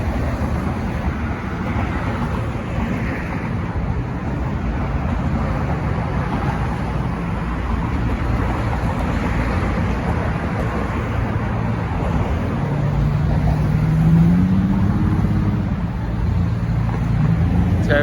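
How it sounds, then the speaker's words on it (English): Steady road traffic on the Brooklyn Bridge in New York, with cars rumbling by as a continuous moderate wash and a vehicle passing a little closer near the end. "You hear the cars."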